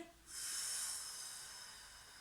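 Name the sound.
breathing out during a sophrology exercise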